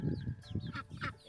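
An American Bresse hen gives a few soft, low clucks and murmurs, close by and faint, in a short irregular burst.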